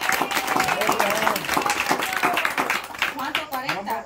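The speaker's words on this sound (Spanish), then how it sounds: "Y un aplauso para Pululo." Audience clapping for Pululo, a finalist receiving a prize, with dense clapping that continues steadily under a voice talking over it and fades slightly toward the end.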